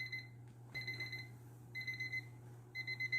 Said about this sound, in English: As my timer is going off